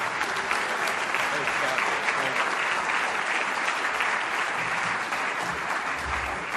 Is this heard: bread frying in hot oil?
no